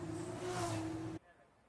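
Race cars in a racing video game rumble up to the starting grid, a steady loud engine drone with harmonic tones that cuts off abruptly after about a second.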